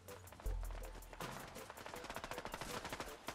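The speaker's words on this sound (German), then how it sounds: "Irgendwie wird geschossen. Man hört es ganz laut." Gunfire in Fortnite, a faint thump followed by a quiet, quick series of rhythmic cracks and pops at a distance, no speech over it.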